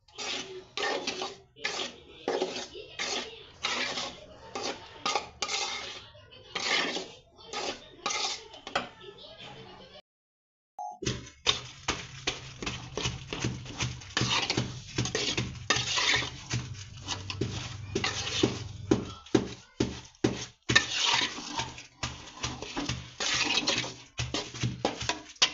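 Flour roasting in ghee in a pan as it turns brown, stirred with rapid, rhythmic scraping and clinking strokes against the metal, fairly quiet and close, broken by one short pause.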